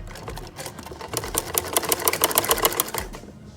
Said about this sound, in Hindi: आपने इनको सिलाई लगा देनी है